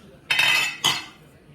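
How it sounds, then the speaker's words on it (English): Utensils clink against dishes while food is plated: two quick metallic scrapes in close succession, the first longer, close and fairly loud in a quiet kitchen. "Let me plate this up for you guys to see."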